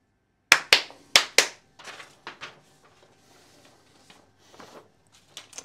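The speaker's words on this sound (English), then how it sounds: "Are those the claps you mean, Barbara?" Four sharp, loud hand claps in quick succession, then softer scattered taps and claps trailing off, close and alone in a quiet room.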